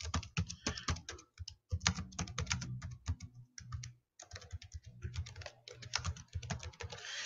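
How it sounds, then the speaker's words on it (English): Rapid typing on a computer keyboard, close and clear, with bursts of keystrokes broken by a short pause near the middle; no voices. "I'm going to type those notes."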